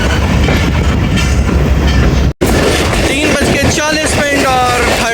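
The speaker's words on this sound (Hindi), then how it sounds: "तो सिहाला से निकल रही है ट्रेन जी।" A passenger train, likely the Awam Express, pulls out of Sihala railway station in Pakistan with loud continuous rumbling and rattling from the carriages, a brief cutout, then rhythmic clacking and squealing wheels, heard from on board.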